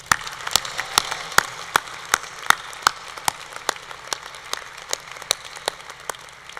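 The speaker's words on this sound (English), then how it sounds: "I believe you all deserve another round of applause." An audience applauds at a university valediction ceremony, with clear, sharp claps rising and falling over several seconds in a large space.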